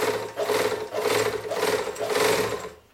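A flea-market GN-2 overlock machine, under restoration, stitches in loud, close bursts of rapid whirring, surging in three or four pulses before winding down at the end.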